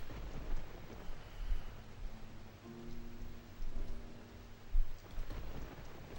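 Steady, soft rain in the game Rule of Rose, a quiet hiss with low rumbling gusts and occasional faint thumps, no voices.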